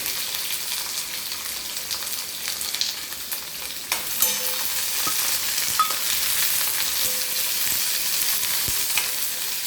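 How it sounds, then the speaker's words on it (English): Onions frying over a low flame in a pan for vegetable korma, a soft continuous sizzle and crackle with occasional small pops and a few utensil taps, close and unaccompanied by talk. "Now I'll add the onions. Let onions also fry. Keep the flame low."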